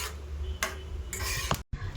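A spoon stirs vermicelli and sago kheer in a pot, with scraping and clinking against the metal in short bursts and a brief gap near the end, and no talk.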